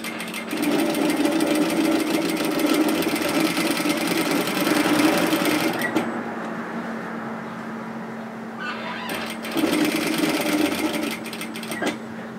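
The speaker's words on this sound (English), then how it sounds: "So I'm just going to do basically a rectangle." A sewing machine stitches a rectangle on sweater fabric, its steady rapid whirring and chatter running close, pausing briefly around the middle for a pivot, then resuming before easing off.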